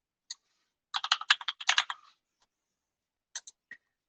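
Keys clatter on a computer keyboard in an office setting, a single tap, then a quick close burst of typing, a pause and a few final strokes, with no voices.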